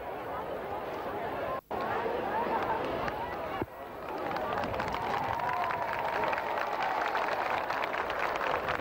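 A large outdoor crowd in Bathurst cheers for the Queen during her 1982 visit after the register signing, a broad roar of voices and clapping that briefly dips twice, then swells and carries on loudly.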